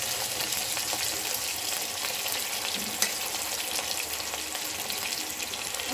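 Tomatoes frying in a pan for a black bean curry give a continuous, fairly even sizzle up close, with a faint knock at one point and no voices.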